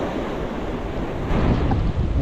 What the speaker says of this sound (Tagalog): Napaka-delikado maligo dito guys kasi sobrang lakas yung alon.